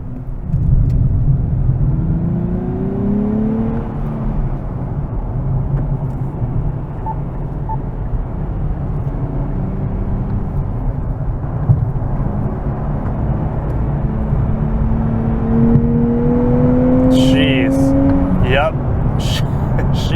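A 2023 Nissan Z manual sports car engine pulls hard at speed, its pitch climbing through a gear and then rising again into fourth, with steady road and wind noise throughout.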